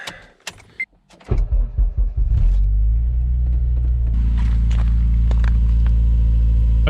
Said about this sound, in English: Still a little cold start.